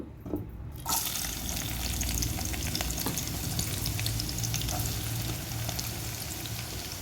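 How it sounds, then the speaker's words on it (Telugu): Chopped onions and green chillies frying in hot peanut oil for liver fry, a steady close sizzle and crackle throughout after a brief quiet start, with occasional stirring clinks. "ఉల్లిపాయ, పచ్చిమిరపకాయలు వేసుకోవాలి. బ్రౌన్ కలర్ వచ్చే వరకు వేయించుకోవాలి."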